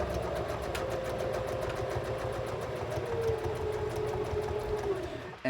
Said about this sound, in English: So what I'm going to do is I'm just going to sew straight down.